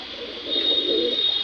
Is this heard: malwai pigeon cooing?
yes